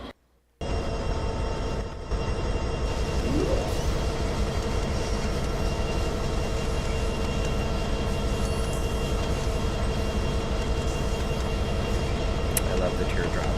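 A BNSF coal train passes in Trainz 19, a loud, continuous rumble of wheels and engine drone with faint squeals, running steadily after a brief quiet opening, with a voice talking over it.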